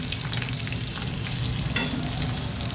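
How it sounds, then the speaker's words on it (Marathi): Moong and vegetables fry hard in a pan, giving a loud, dense sizzle and crackle that runs steadily throughout with occasional stirring scrapes and no voice. "लालसर असं हे भाजून घेऊया."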